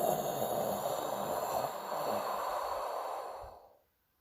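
Long, deep breaths drawn in and let out slowly during a guided relaxation exercise, a steady close airy rush lasting several seconds before fading away into silence.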